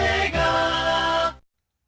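SEGA logo jingle from the video games, a short bright burst of sung, synthesized tone that holds for about a second and then cuts off abruptly into silence.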